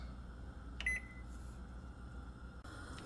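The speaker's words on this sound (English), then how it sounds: "After the timer goes off, turn off" A kitchen timer gives one short, faint electronic beep while eggs boil, set against a low steady hum.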